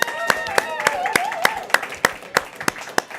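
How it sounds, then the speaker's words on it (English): At a comedy show taping, an audience gives a sparse round of applause: distinct, sharp claps land in a steady rhythm about three times a second while a voice talks over them. "Give a round of applause."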